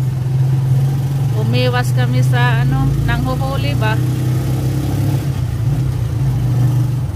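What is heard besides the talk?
tricycle motorcycle engine running while riding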